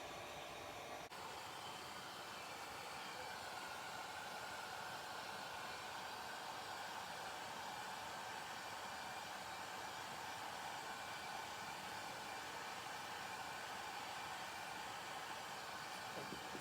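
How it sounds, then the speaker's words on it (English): A blow dryer switches on and runs steadily, a loud continuous whooshing roar with no pauses. "I'm gonna turn on my blow dryer."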